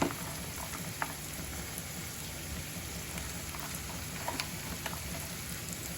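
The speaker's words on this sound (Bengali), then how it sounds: "একটু নেড়ে নেওয়ার পর এখানে গাজর আর বিনস কুচিটা দিলাম" Chopped carrots and beans frying in a pan for poha give a steady, even crackling sizzle throughout, with a few faint clicks from the pan and no talking.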